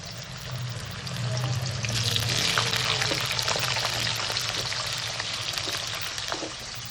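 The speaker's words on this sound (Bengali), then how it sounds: "এবার কাঁচকলাগুলোকে ভেজে নেব।" Raw green banana pieces frying in oil for a Bengali shukto, a steady watery bubbling hiss with soft crackles throughout, fairly close and even, no talking.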